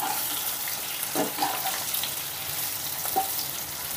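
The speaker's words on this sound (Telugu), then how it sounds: "ఇప్పుడు మన అరటికాయ ముక్కల్ని స్టవ్ని హై ఫ్లేమ్లో పెట్టుకొని ఒక 10 నిమిషాలు బాగా ఫ్రై చేసుకుందాం." Raw plantain pieces frying in a pan over a high flame for a crispy Andhra-style banana fry, giving a steady soft sizzle with a few faint clinks and stirs, quiet and continuous, no voices.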